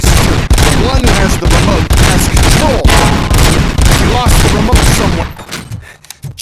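Loud, continuous automatic gunfire in RoboCop: Rogue City, rapid overlapping shots with booming impacts, with some faint game speech mixed in before the firing cuts off near the end.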